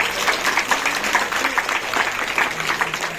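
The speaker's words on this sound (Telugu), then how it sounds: "ఒకసారి గట్టిగా చప్పట్లు" Crowd applause at a Telugu temple consecration event, a dense steady patter of many hands clapping continuously and fairly loud.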